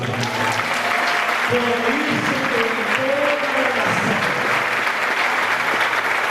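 A church congregation applauds at a Sunday service, a loud, dense and steady clapping that carries through the whole stretch with a voice and tones faintly underneath.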